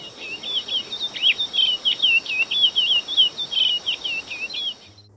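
A hybrid songbird, a curió (lesser seed-finch) crossed with a chorão seedeater, sings a continuous run of bright, rapidly warbled phrases over about five seconds. The song is close and clear, with faint insect-like hiss behind it.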